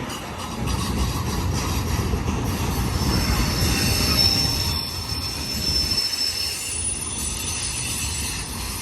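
BNSF eastbound intermodal freight train with three rear DPUs rolling past near a crossing, loud and continuous, with strong wheel squeal and rumbling clatter throughout.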